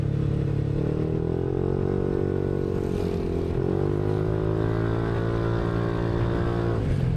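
A Yamaha NMAX V3 scooter fitted with a BOMX exhaust pipe on a ride, its engine holding a loud, steady, close drone that rises and falls slightly in pitch with throttle changes, with no talk.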